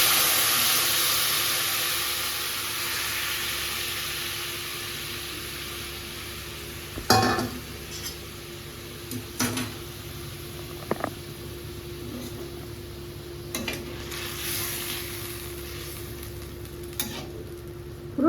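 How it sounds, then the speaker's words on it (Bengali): Fish and water tipped into a hot pan of oil and spices while cooking Bengali fish curry, giving a steady broad sizzle with a few clear stirring knocks and scrapes from the spoon scattered through, close up and without talk. "তো চলো ওই মাছটা ঢেলে দিই, জলটা দিয়ে তাহলে সাঁতলানো হয়ে যাবে আর কি।"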